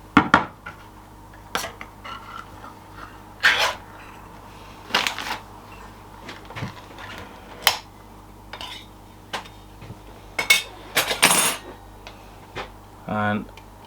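A jar of pizza sauce is handled and opened in a kitchen, producing scattered clicks, taps and clinks of lid and glass, separated by quiet pauses, with a brief rustling burst near the end.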